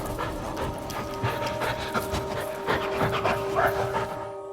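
A dog pants quickly and rhythmically at close range on a walk through tall grass, with faint whimpers mixed into the steady breathing against a soft outdoor background.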